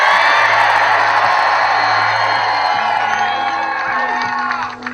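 A large crowd at a Kamala Harris rally in the Chippewa Valley, Wisconsin roars with sustained cheering, whoops and yells, loud and continuous, easing slightly toward the end.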